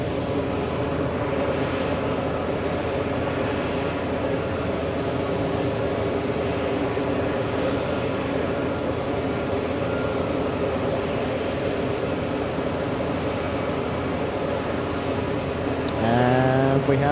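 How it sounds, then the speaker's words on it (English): British Airways Speedbird 172 airliner takes off at JFK Airport, a loud sustained jet engine roar that stays steady and close throughout, with a sharp rising whine near the end. "That's Speedbird 172 taking off about 50 minutes late."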